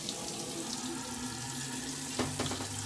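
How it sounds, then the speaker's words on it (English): Tap water runs steadily into a sink as someone wets their face before shaving with a soap lather, a constant hiss with a couple of brief splashes near the end. "So, just gonna wet my face."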